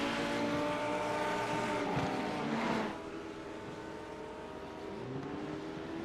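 Race car engines idle and rev on pit road during a KRL GT race at Barcelona, a steady close mechanical drone with a brief rising rev swell near the middle before settling lower.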